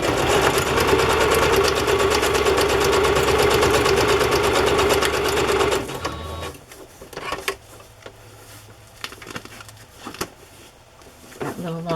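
A sewing machine runs a steady straight stitch across a soft fabric journal cover, a loud continuous motor hum with rapid needle chatter for about six seconds, then stops, leaving quiet handling noises.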